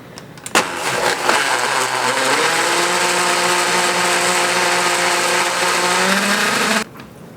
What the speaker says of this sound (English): I'm using mix and puree on my 5-speed blender.